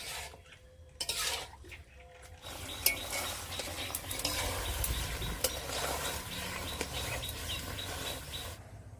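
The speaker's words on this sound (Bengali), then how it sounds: "এইদিকে জাল দেবো আর এইদিকে নাড়বো নাড়া বন্ধ করলে হবে না" Ash gourd morabba simmering in thick sugar syrup is stirred in a pan, with a spoon clinking and scraping against the metal over a constant bubbling hiss, the strokes irregular and close.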